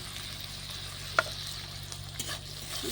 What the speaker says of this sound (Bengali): একটু কষিয়ে নেব যাতে মশলাটা না লেগে যায়